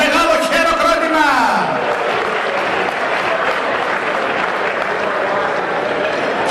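A crowd at AHEPA's 80th anniversary celebration breaks into sustained applause for Penny Pavlakis and the Sopranos, loud and dense, following a brief announcer's voice at the start.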